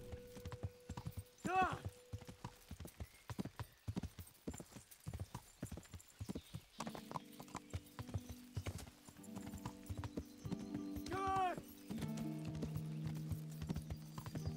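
Horse hooves clip-clop at a steady walking rhythm in Kingdom Come: Deliverance, with a whinny breaking in twice, over game music and someone talking.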